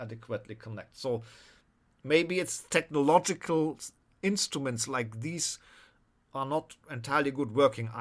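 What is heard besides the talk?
None of the usual background noises is heard.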